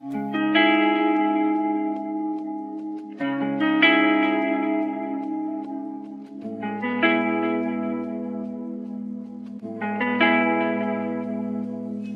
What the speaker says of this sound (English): It's a piano that I took out